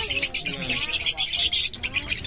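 A lutino hen calls among caged birds at a bustling bird market, with repeated bright chirps running over steady chatter and background voices.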